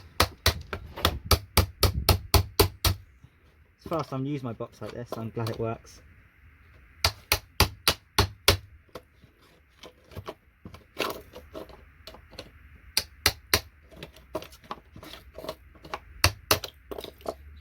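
A hammer strikes low-grade circuit boards being scrapped for metals, with rapid bursts of sharp, close blows separated by pauses, and someone talking during a lull.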